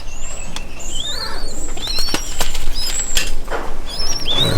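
A big pigeon at an outdoor wildlife area beats its wings in several quick flapping bursts, with chirping birds and faint background activity around it.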